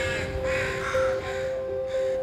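Crows on a university campus caw a few times, faint and somewhat distant, against a quiet outdoor background with no talking.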